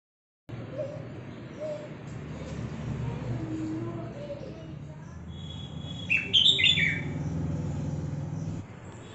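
Bulbul birds call at their nest, a brief cluster of high chirps standing out near the end over a steady low background hum, fairly faint and with no speech.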